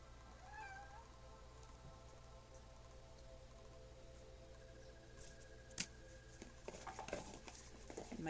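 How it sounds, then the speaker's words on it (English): A cat meows softly a couple of times early on, faint and indoors over a steady low hum, with light tapping and clicks toward the end. "Even my cat is impatient."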